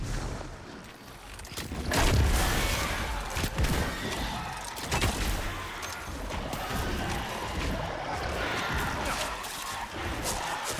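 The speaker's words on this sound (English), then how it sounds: "Joyful explosions." Explosions and gunfire in the Destiny 2 Shattered Throne dungeon, a dense barrage of booms and rapid shots layered with combat noise, fairly faint overall and continuous throughout.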